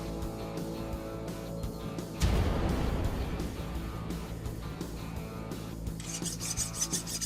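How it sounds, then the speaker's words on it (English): A hot hand-forged curved sword blade is plunged into quench liquid in a forge, setting off a sudden loud broadband hiss and sizzle that keeps rushing steadily for several seconds. "Time to quench."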